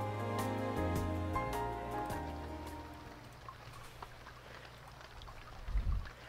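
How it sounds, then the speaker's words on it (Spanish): Steady rain falls in a visual novel scene, a soft continuous patter that continues as background music fades out, with a brief low thump near the end. "El despertar con el sonido de la lluvia lentamente"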